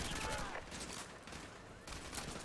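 Automatic gunfire from a sentry gun in the video game Call of Duty: Modern Warfare 2 Campaign Remastered, a faint, steady burst of rapid shots rattling on with a low rumble beneath.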